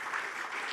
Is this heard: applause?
yes